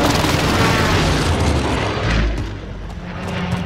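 Heavy booming airstrike explosions in Warzone Pacific, a dense, loud rumbling roar of overlapping blasts with a fresh low impact swelling near the middle before the noise tails off.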